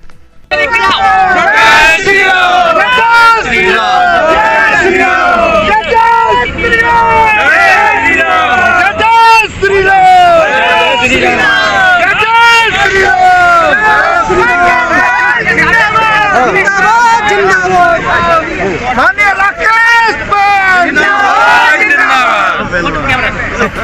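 A large, dense crowd welcomes a politician joining the BJP in Bundelkhand, a steady loud babble of many voices and shouts running throughout alongside a convoy of hundreds of vehicles.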